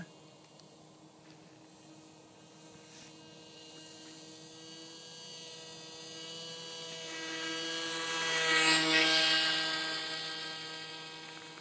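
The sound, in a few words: airboat engine running on snow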